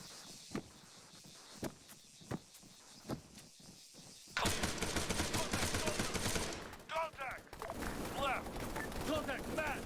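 Machine gun fire in Arma 3: scattered single distant shots give way to a sustained, dense burst of automatic fire, then more gunfire under shouted voices and talk.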